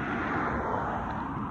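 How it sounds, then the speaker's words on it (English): Busy car traffic on a street, a steady broadband roar of passing vehicles, fairly loud and continuous with no distinct pass-bys, heard alone without speech. "Sorry about the car noise."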